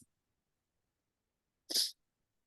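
A single sharp sneeze bursts out alone after near silence, close and brief.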